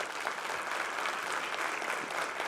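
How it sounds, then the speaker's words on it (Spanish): Audience applauding a speaker after a programming-languages talk, a dense, continuous clapping from a crowd in a hall, moderately distant and steady for a few seconds. "aplauso para él"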